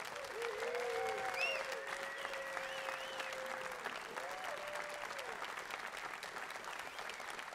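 A live concert audience applauds a guest trombonist, dense clapping carried at a distance with whoops and cheers rising over it early on, then settling into steady applause.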